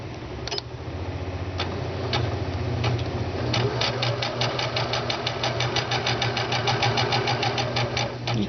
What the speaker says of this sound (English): Then you just sew diagonally from one corner to the other